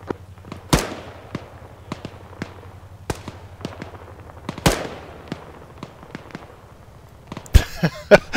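Artillery shells landing in the military game ArmA 3, a series of sharp, booming impacts at irregular intervals, some near and loud, others distant and softer, with a few rapid bursts toward the end and no talking.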